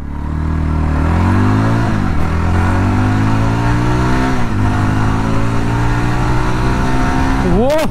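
A 2023 Yezdi Roadster BS6 2.0 motorcycle pulls hard from first gear, its engine note rising loudly and close, then dipping at each upshift before climbing again, with a final quick rev near the end.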